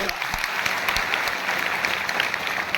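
Steady applause from an audience, dense and continuous clapping throughout, fairly loud with no pauses.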